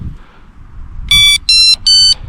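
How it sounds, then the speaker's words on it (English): A fishing bait alarm set up for pike fishing gives three sharp, loud electronic beeps in quick succession after a quiet outdoor background. "just turn on your bait alarm, and as you can hear with that, it almost sounds like saying "I'm on the pike.""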